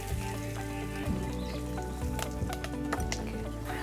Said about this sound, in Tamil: அடுத்து பச்சை மிளகாய் வெங்காயம் போடுறேன்